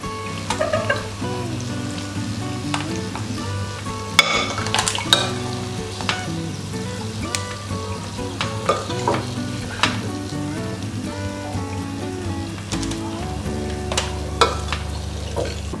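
Potatoes fry in hot oil, a steady close sizzle with crackling pops and bubbling throughout, with a few louder spits and clinks of a utensil as pieces are lifted from the pan.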